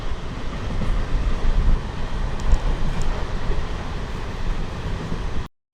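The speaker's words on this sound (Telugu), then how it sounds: "మన ట్రైన్ అయితే మెల్లిగా లూప్ లైన్లోకి అయితే వెళ్తుంది." An Indian MEMU train creeps slowly onto a loop line, giving a steady, fairly close rumble of wheels and carriage noise with no voices, ending abruptly.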